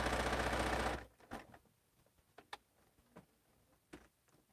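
A sewing machine stitching quilt block seams: a loud continuous run of rapid needle stitching for about a second, then stops, followed by scattered quiet clicks and taps of handling the fabric.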